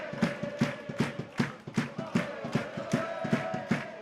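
A near 2,000 crowd at the South Leeds Stadium reacting to a rugby league try in the Hunslet versus Bradford Bulls match, with rhythmic chanting and thumping claps in a regular beat, loud and close.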